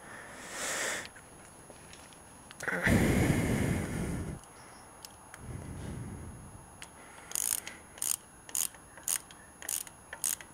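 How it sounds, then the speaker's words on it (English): Cam-chain tensioner bolts being tightened on a Kawasaki ZZR-250 (EX-250) motorcycle: a burst of ratchet clicking midway, then a series of short, sharp ratchet clicks evenly spaced near the end, close and moderately loud. "So now you want to tighten that back in."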